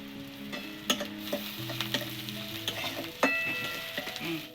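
Chopped onion, garlic and ginger sizzle in a pan for chicken momo filling, with a steady hiss broken by repeated scraping and clinking of a spatula stirring close by.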